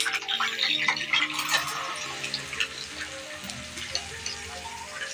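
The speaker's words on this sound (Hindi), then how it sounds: "अब हम इसमें प्याज डालेंगे" Ground onions fry in hot ghee in a karahi for Lahori chicken karahi, a busy hissing sizzle that is loudest at first and then settles into a steadier, softer crackle.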